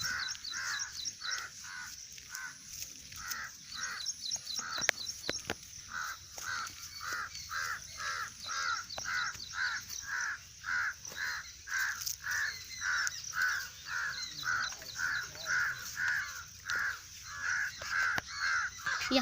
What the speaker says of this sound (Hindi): यहाँ पे ढेर सारे कौवे आके आवाज़ कर रहे हैं।